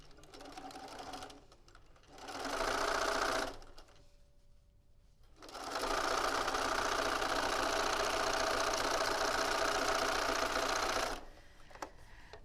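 A sewing machine stitches quilt pieces over seams in two runs, a short burst and then a long steady whir, with quiet pauses between.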